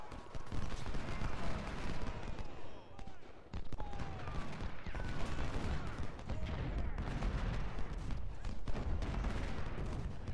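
Rifle volleys crackle from a fort in Ultimate General: Civil War, a dense continuous fusillade of overlapping musket fire with a few sharper bursts, loud and steady, with a voice talking underneath.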